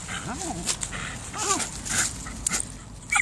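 A dog whimpers in short, rising whines, two or three high plaintive cries spaced apart, fairly close, with faint background noise.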